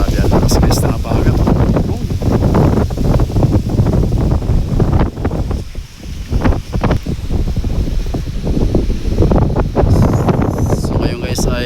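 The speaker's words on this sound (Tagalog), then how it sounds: "Grabe ang lakas guys na habagat." A strong habagat monsoon wind blasts across the coast at low tide, roaring loud and steady with gusty buffeting against the microphone, while people talk over it.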